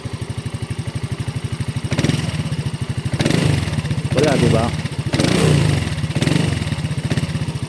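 A Motorstar Easyride 150 FI motorcycle engine starts and runs with a rapid, steady thumping idle and is revved several times in short bursts, close by, with someone speaking briefly over it.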